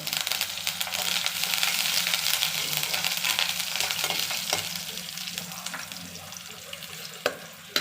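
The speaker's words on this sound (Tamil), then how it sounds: "கடுகு பொரிஞ்சிட்டு வெங்காயம் போட்டுருங்க. சிறிதளவு வெங்காயம், சிறிதளவு கருவேப்பிலை" Onion and curry leaves fry in oil after mustard seeds have spluttered, giving a continuous loud sizzle with occasional utensil knocks near the end.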